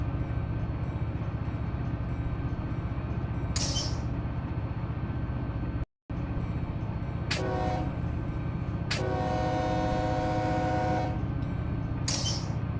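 A freight train in the Run 8 Train Simulator game runs at about 50 mph with a continuous rolling rumble, broken by several loud, bright horn blasts, one held for about two seconds.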